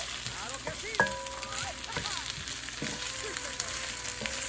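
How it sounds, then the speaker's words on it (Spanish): Pork chops fry in oil with onion and tomato, a steady close sizzle with occasional stirring scrapes and faint tonal background sounds. "el tomate para que todo se fría muy bien y se compacte"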